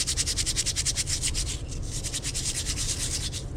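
An abrasive Scotch-Brite pad soaked in alcohol rubs repeatedly over a 2025 Triumph TF 250-X dirt bike part, giving a loud, close, steady back-and-forth scrubbing rhythm with no talking.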